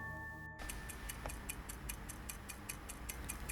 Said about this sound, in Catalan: Molt bé, era un rellotge.